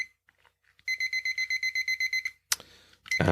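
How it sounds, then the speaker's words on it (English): A timer alarm beeps in a rapid, steady series of about a dozen sharp electronic pulses, loud and close, then stops, followed by brief rustling handling noises. "Let's set the timer."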